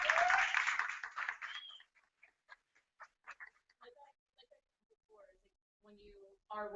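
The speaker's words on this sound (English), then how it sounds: "really a round of applause for everyone that's up here" A launch-event audience bursts into applause with a whoop of cheering for about two seconds. It fades quickly, and a single voice then speaks in a quiet room.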